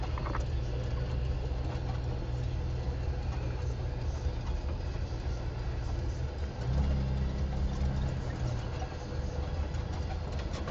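A Jeep Rubicon engine drones steadily at low pitch while driving a forest trail in the ZEC Batiscan, a continuous close rumble with faint rattles and no clear talk.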